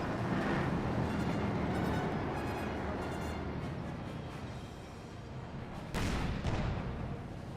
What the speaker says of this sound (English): Getting shelled pretty hard right now.